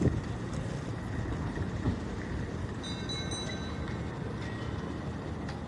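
A metro train rumbles steadily with heavy low-end roar and faint high squeals of wheels on rail, continuous throughout at moderate distance, with no talk.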